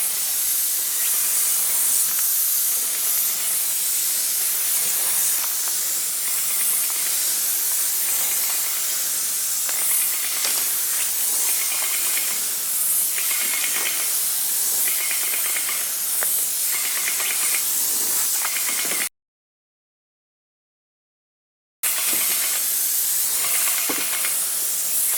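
A paint spray gun hisses steadily and close by as it lays down a fan of paint, a continuous airy rush with a few faint surging passes and a short silent break partway through.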